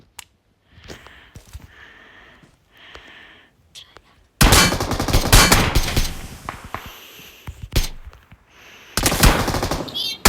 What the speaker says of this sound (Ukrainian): Саня, там стреляют.